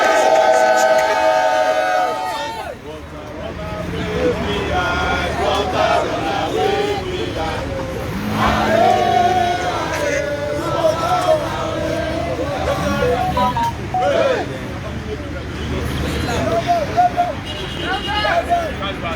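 Crowd noise at an EndSARS memorial protest at Lekki tollgate, a dense babble of many voices, chanting and shouting that stays loud and continuous throughout, with a brief whistle-like tone at the start.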